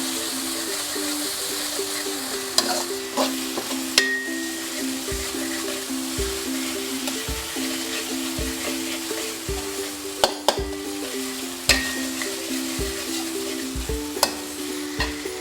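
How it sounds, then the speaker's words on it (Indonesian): Bay leaf, galangal and lemongrass sauté in a pan with a steady oily sizzle, broken by scattered scrapes and knocks of stirring, over a constant low hum. "Kita tumis sebentar."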